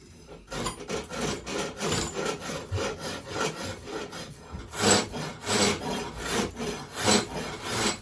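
Hand tool shaping a wooden axe haft, a series of rhythmic rasping strokes up close, each a short scraping pass repeated steadily.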